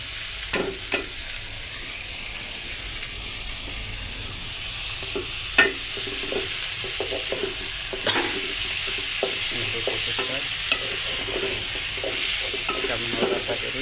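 Taro leaves added to a hot pan and fried, with a continuous sizzle under scattered spatula scrapes and taps, close and steady throughout, and no talking.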